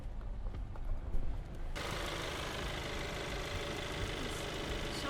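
A car engine starts up and settles into a steady, close idle with a continuous low rumble and broadband hum, preceded by a couple of seconds of quieter interior rustling.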